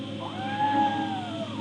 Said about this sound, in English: That's the cat Molly wants me to catch.